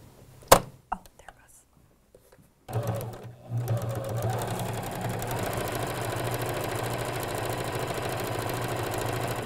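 A sewing machine stitches regalia, starting after a few faint knocks and then running in a steady, close, rapid mechanical whir for several seconds with no clear talk.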